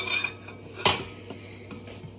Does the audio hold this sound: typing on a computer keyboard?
no